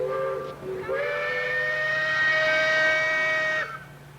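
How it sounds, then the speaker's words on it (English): An authentic steam engine at a 1999 centennial parade in Mass City, Michigan lets out a loud, sustained whistle, beginning with a short chirp and then holding one steady tone for about three seconds before it stops. "Here's an authentic steam engine driven by John Brunton."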